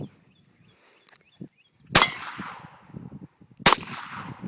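Two sharp, loud .22 pistol shots ring out about two seconds apart at an outdoor shooting session, each cracking with a short ringing decay, among quiet handling noises and no speech.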